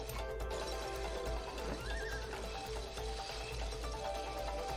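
A horse whinnies over a steady background, with light hoof clip-clops, in the video game It Takes Two; the sound is mid-level and has a slightly processed, game-like quality.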